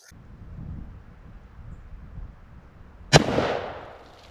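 A single sharp .45 caliber revolver gunshot fired outdoors into water jugs backed by a board, a loud crack with a short decaying tail, preceded by a few seconds of quiet wind and rustle.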